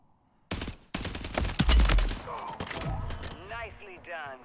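Video game gunfire aimed at an enemy sniper rattles out in a quick burst of close shots after a brief silent start, then fades as a game voice speaks over swooping effects.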